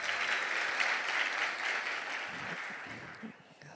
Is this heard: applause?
yes